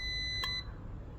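One short electronic beep from a homemade A/B power tester circuit switched to normally closed, sharp and fairly loud, ending abruptly and followed by low background hum.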